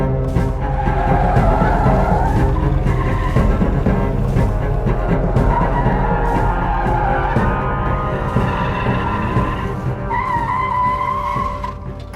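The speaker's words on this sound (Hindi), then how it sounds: "गाड़ी लेकर विस्पर हिल रोड पर निकल पड़ा" A car drives on a deserted forest hill road, its tires squealing and skidding in long drawn-out screeches over a loud, steady engine drone, heard close throughout.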